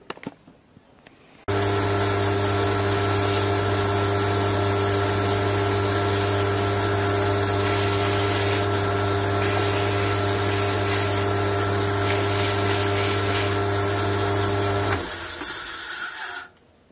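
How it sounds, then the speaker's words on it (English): A wooden slimline pen blank sanded on a spinning lathe: a loud, steady motor hum with a rough abrasive hiss starts abruptly, holds evenly for about thirteen seconds, then stops. "We need to make them nice and smooth and sand them."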